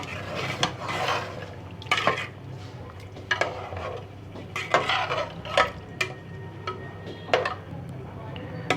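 Spoon stirring chicken korma in a pot just after a glass of water is added to the browned chicken, giving repeated scraping and clinking strokes at close range over a low steady background.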